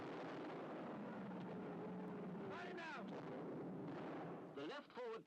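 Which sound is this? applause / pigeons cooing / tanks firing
tanks firing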